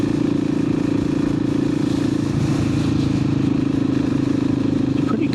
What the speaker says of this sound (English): It sounds like a thumper.